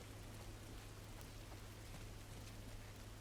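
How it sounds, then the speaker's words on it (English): Steady rain in the video game The Last of Us, a soft, even hiss of falling drops over a low constant hum, faint and unbroken throughout. "The fog, the mist from the rain."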